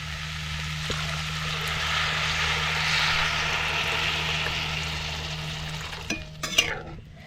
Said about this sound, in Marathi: मूग आणि बटाटे चांगली भाजी अशी परतून झाली की आता आपल्याला ह्याच्यात पाणी ओतायचं आहे